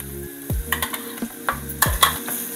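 Ground chili, crushed chili, pomegranate seed powder and chaat masala frying briefly in a pan, a soft sizzle broken by four or five loud, ringing metal scrapes and knocks of a spoon against the pan.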